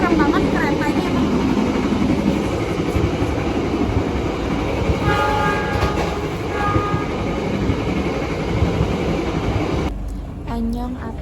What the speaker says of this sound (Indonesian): Sumpah serem banget kereta ini emang.